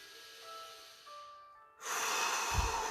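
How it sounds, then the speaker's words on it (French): Slow, deep breaths during a guided breathing exercise: a soft inhale, then a louder, rushing exhale close to the microphone, with no talking over it. "On inspire, on expire."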